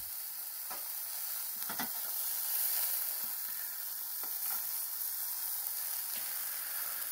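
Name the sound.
sausages sizzling over embers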